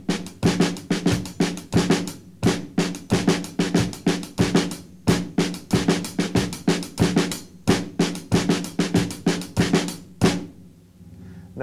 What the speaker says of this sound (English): divide it between snare drum and hi-hat